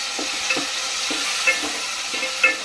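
Onion and tomato fry in oil for fish sambar, a steady close sizzle broken by about three light scrapes of a stirring spoon, roughly one per second, with no talk.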